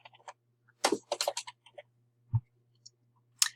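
A computer mouse clicks into a reply box, followed by a short run of crisp, close keyboard taps and clicks on a quiet desk, with no voices.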